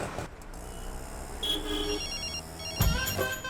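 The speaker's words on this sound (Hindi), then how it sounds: "फिर से फोन कर रही है।" A phone rings with an electronic ringtone, repeated tonal bursts fairly close, over background hum and a couple of sharp knocks.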